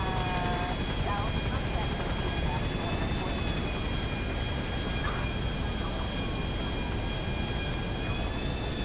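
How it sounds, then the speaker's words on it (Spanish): A helicopter in GTA V drones steadily throughout, a dense whirring roar with faint high tonal whine, loud and continuous with no break. "Si subo nomás aparece aquí el helicóptero."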